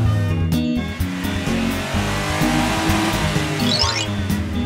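A cartoon SUV drives and revs, its engine roaring steadily and loudly throughout, with a brief tire squeal near the end over a layer of background music.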